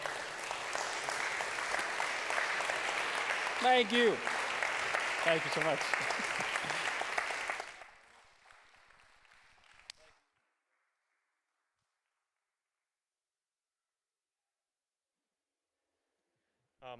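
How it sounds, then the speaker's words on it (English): Audience applause after a question-and-answer session at a talk on expanded worldview, loud and sustained for about eight seconds, with a speaker's voice thanking the crowd over it before the clapping fades out. "please give a huge round of applause"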